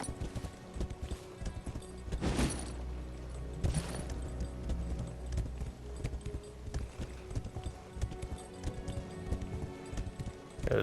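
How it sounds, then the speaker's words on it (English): Horse hooves clip-clop in a steady galloping rhythm as a horse is ridden in the video game Wayfinder, with a whinny, layered over game ambience and music. "I'll always ride my horse through here like a crazy person."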